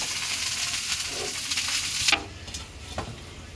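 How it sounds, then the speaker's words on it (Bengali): Fried rice (bhat bhaji) being stirred in a pan, with a close, steady hiss of frying broken by a few scraping spoon strokes, the sizzle dropping off sharply after a couple of seconds. "নিচে থেকে ভালো করে নাড়া দাও, লাইগে ধর না নিচে।"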